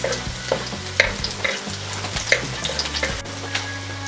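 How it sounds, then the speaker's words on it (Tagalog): Garlic sautés in hot cooking oil, a dense crackling sizzle with a low rumble beneath and repeated spatula scrapes and pops, close and loud throughout. "Ngayon po na mainit na ang ating mantika ay pwede na nating igisa itong ating bawang"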